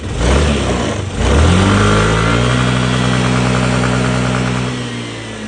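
A Yamaha Grand Filano scooter engine is revved hard toward its factory rev limiter, a loud, close buzzing drone that briefly dips, climbs again and holds high before easing off.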